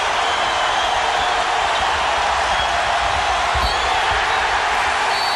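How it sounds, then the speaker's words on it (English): A basketball arena crowd cheering for Kansas at a 2004 NCAA first-round game against Illinois-Chicago, a loud, continuous roar of many voices that stays dense and unbroken throughout. "Boy, this crowd, Bob, listen to it."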